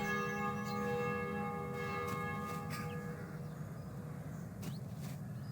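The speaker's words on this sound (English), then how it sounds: "Oh, and there's a bell." A church bell rings in The Black Mirror video game. It gives a deep tolling strike whose tones hang on and fade over several seconds, with a few faint clicks and no talking.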